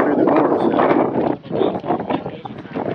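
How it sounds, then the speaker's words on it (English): Strong wind buffets the microphone outdoors ahead of an incoming storm, a loud gusting roar that dips briefly midway and then swells again. "It's windy out here today."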